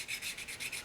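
Sharpening stone rubbed back and forth on a hand planer knife, a quiet rhythmic scraping in about six even strokes, close up and with no speech.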